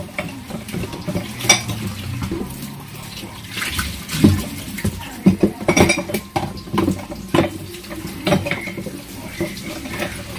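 Dishes being washed by hand under a kitchen tap: irregular clatter of plates, pots and cutlery over a low wash of water, with sharp knocks bunching together midway and no talking.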